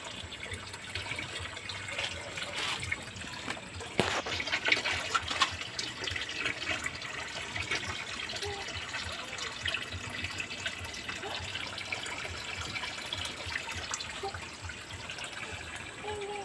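Tap water runs late at night to fill a container, a steady moderate splashing stream lasting throughout, with a sharper clatter partway through and no talking.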